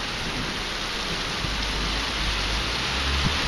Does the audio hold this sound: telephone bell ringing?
no